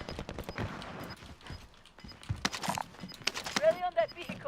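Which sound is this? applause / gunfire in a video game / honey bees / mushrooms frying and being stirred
gunfire in a video game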